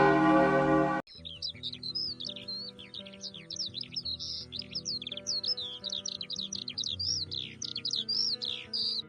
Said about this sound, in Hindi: पुरानी मंदिर की घंटी का, जो आधी रात को अपने आप बज उठती थी।